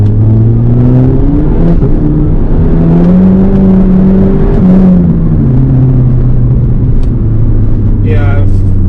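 Skoda Octavia vRS petrol turbo car with fresh spark plugs and coil packs, engine accelerating under load: a loud, steady revving drone that climbs and dips in pitch throughout, with a voice briefly heard near the end.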